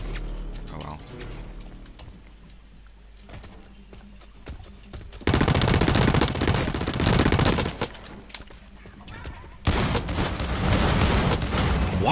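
Sustained automatic gunfire from the Blacklight Retribution shooter game bursts in loud and dense around five seconds and again near ten, after a quieter stretch of softer game sounds.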